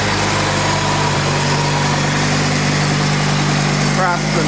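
A Craftsman gas snowblower engine runs at a steady, loud drone with a high buzzing tone through a northeaster snowstorm, and a person briefly talks over it.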